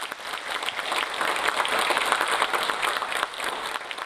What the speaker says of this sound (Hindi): और आप अगर तालियां बजा दें तो बड़ा अच्छा लगेगा।